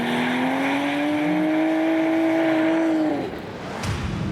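A Nissan S14 drift car and a Skyline race at Manfeild Circuit, with a steady high engine drone holding at speed, then easing off as the car passes into the distance.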